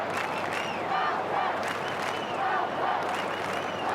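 A massive stadium crowd roars and applauds at the MCG in Melbourne during a night AFL match between Carlton and Collingwood, a steady, distant wash of cheering and clapping with no single voice standing out.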